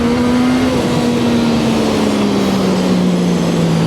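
A Zontes 703RR motorcycle engine droning loudly and continuously on twisty roads, its pitch easing slowly downward, with heavy wind rush close to the rider.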